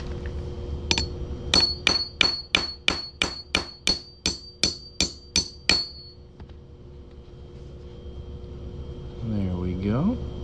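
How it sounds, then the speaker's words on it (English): A hammer strikes a metal coin punch jig about a dozen times in an even rhythm, each sharp ringing clank decaying quickly, while punching a hole in coins for ring making; the blows stop and a low hum remains. "I'm going to put them in this little jig here"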